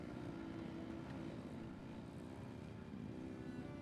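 Vehicle engine in the game Genshin Impact, a steady droning roar with a propeller-like hum held evenly throughout, loud and continuous with no talk.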